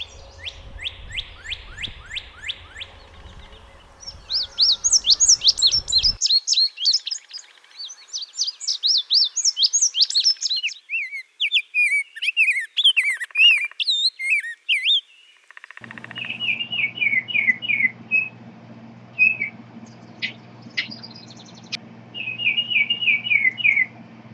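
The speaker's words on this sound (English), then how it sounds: "the quiet of winter is replaced by the songs of a multitude of birds" Several birds sing in turn in spring, bright chirps, trills and warbling phrases repeating in bursts, clear and fairly close, with no voices.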